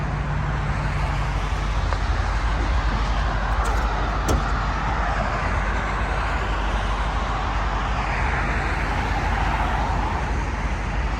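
Constant roar of traffic right beside a highway, a dense, loud wash of passing cars and trucks with no break, heard alone without talk.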